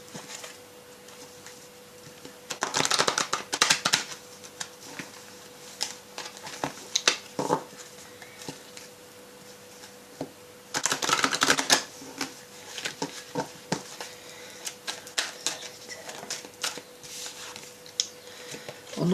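Tarot cards being shuffled, dense rapid riffling bursts around the start and middle, with scattered sharp card taps and flicks in between, close and crisp.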